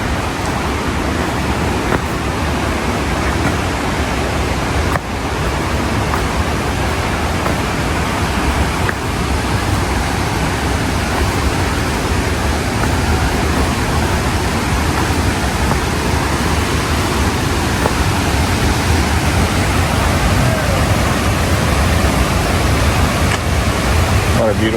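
River Cuale waterfall near Puerto Vallarta, Mexico, a loud, steady roar of rushing, falling water that fills the whole span without letting up, close at hand, with no talk audible over it.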